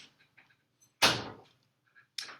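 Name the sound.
door being closed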